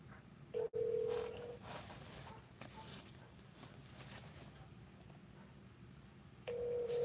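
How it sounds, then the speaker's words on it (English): A phone rings out over speakerphone, with two short ringback tones separated by several seconds of faint room noise and low indistinct sounds. "Phone just ringing and ringing."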